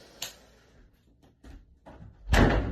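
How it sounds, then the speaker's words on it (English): A door is closed indoors, with a soft knock near the start and a louder thud and rattle at the end, separated by quieter handling sounds. "She closes the door."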